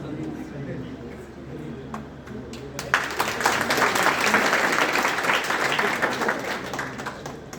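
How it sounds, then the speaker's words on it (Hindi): Audience applause at a motivational success-story talk, building from a few scattered claps into loud, sustained clapping from a crowd, with a voice speaking near the start. "इनके लिए जोरदार तालियां।"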